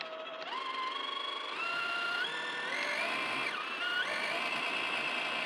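Traxxas TRX4 Bronco RC truck's electric motor whining at full throttle while climbing a hill, a steady high-pitched whine that rises in stepped pitch jumps as it strains, loud and continuous with no talk.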